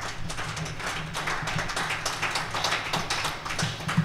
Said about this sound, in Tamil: ஒரு சும்மா கையை தட்டுங்க.